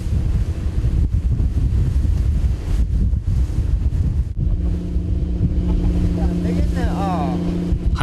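Strong wind buffets the microphone on an anchovy fishing boat on a rough sea, with waves and engine rumble beneath. After about four seconds, steady tonal sounds and a voice join the loud, constant roar.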